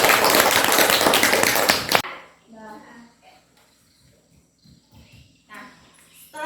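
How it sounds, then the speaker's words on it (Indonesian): Classroom applause bursts out loudly for about two seconds, a dense wash of many hands clapping, then stops abruptly, leaving a quiet room with faint scattered voices and small movements. "Berikan tepuk tangan"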